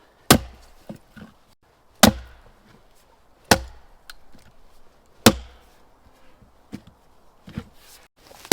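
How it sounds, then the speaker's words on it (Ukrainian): Firewood being split with an axe on a chopping block, with four loud sharp wooden chops spaced about every one and a half seconds plus lighter knocks and taps between them, close and alone with no talk. "Склали і рубаєте. але не засильно."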